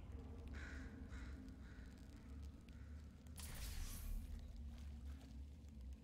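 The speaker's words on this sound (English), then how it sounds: "That bird's eating GLaDOS." Crows cawing in the video game Portal 2, as a bird pecks at and eats GLaDOS: a few raspy caws early on, then a brief rushing flurry midway, all over a steady low rumbling game ambience.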